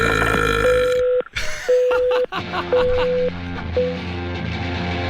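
A long, loud burp rumbles out, followed by a few shorter croaking belches with brief pauses between them.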